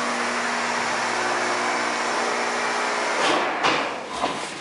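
Vintage manually controlled OTIS traction freight elevator running at 153 W. 108th St., a loud steady mechanical hum and whir that ends with a few heavy clunks and rattles near the close, with no voices.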